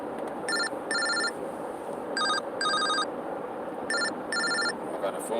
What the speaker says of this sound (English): I got a phone call because I'm late to where I'm supposed to be at